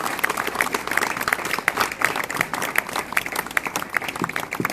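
An audience at a Haryanvi cultural gathering claps in a dense burst of applause, loud and sustained, with uneven rhythm throughout.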